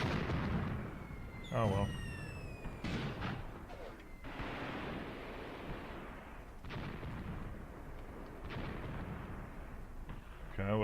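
Mortar shells explode in the war game Graviteam Tactics, several dull distant booms and crumps spaced across a rumbling battlefield, with someone talking briefly over them.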